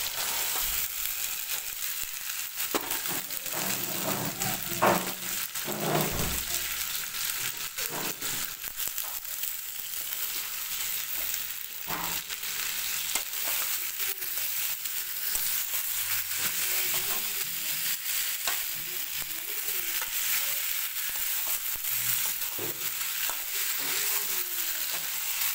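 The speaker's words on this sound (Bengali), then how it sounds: "মটরশুঁটি আর আলু ভালো করে কষিয়ে নেব" Peas and potatoes frying in a paste of cumin, chilli and turmeric for aloo dum, a steady moderate sizzle with intermittent stirring scrapes over a long stretch, no speech.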